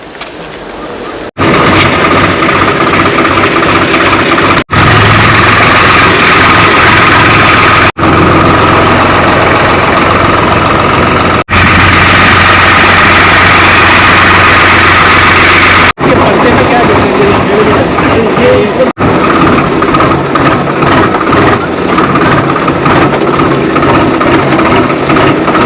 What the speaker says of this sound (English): this time the ride is a four-wheeler, but not what you think. It's gonna be this tractor.